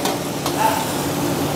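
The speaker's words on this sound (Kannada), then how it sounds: "ಆಯಿಲೆಲ್ಲ ಬಿಸಿ ಆದಮೇಲೆ ಈಗ ಹಾಕಿ" Chicken pieces dropped into hot oil for Andhra-style chilli chicken, giving a brief, steady close-up fry and sizzle with a faint stir, no speech.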